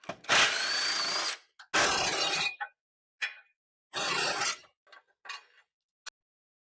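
A power tool spins off 17mm bolts beneath a car's front lower control arm, loud close bursts of whirring and rattling broken by silent gaps, with shorter, fainter pulses toward the end.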